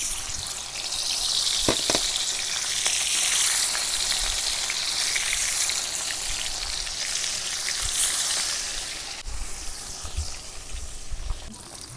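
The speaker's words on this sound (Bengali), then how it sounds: "লবণ হলুদ দেওয়া মাছগুলো কড়াইয়ের মধ্যে দিয়ে দিলাম" Rui fish coated in salt and turmeric fry in hot oil in a wok, giving a loud, continuous crackling sizzle with occasional pops and clatter, while rain is falling outside.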